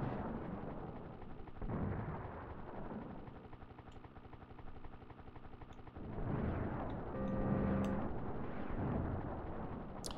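Booming explosions and rumbling blasts in Ultima V on the Commodore Amiga over steady game music, with a droning engine-like tone and a brief bright tone near the end.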